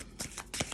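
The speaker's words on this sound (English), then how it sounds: "if these cards shuffle and get on my nerve, we're gonna move on" Tarot cards being shuffled in a few quick papery riffles and flutters, close and fairly soft, with no talking.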